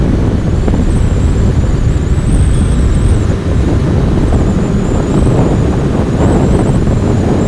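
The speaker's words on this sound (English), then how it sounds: "Man, it's windy today." Heavy wind buffeting a microphone on a Kawasaki Ninja ZX-6R ride, loud and constant roaring rush with a faint high engine whine drifting through, no talk.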